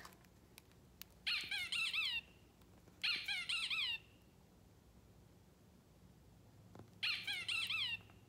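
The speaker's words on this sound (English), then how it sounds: "Squeak, says the little rubber duck." A little rubber duck toy squeaks in three separate bursts of rapid, bright squeaks, each lasting about a second, close and clear against a quiet background.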